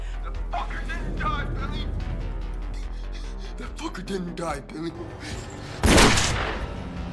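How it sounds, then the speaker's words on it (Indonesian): Gunshot in a gangster film scene, a sharp loud burst near the end over an ongoing dramatic music and sound bed. "Nick langsung menembak orang itu sebagai tanda bahwa Nick akan segera mendatangi Billy."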